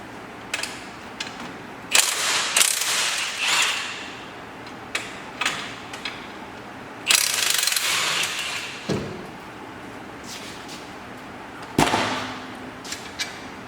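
An electric ratchet works on a Mazda 6 transmission during a swap, giving short bursts of whirring and clicking with brief pauses between them, close and fairly loud, with no talking.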